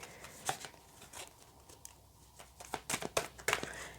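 A large tarot deck shuffled by hand, heard as quiet, close papery riffles and crisp card slaps that come in scattered bursts, growing busier toward the end.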